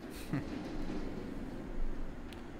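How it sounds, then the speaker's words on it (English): A train rolls past in the video game What Remains of Edith Finch, a low, soft rumble of rail noise that swells and fades across the scene, faint and distant, with a voice briefly heard near the start. "So I can hear a train going around"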